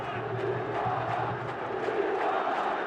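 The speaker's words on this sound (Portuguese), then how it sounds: "A torcida do Vasco grita Viola, Viola." Vasco supporters in a packed football stadium chant the name Viola, a dense, sustained crowd roar with rhythmic chanted pulses throughout.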